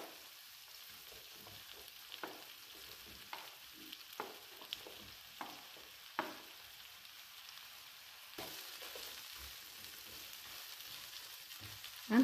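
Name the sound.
aubergines frying in a pan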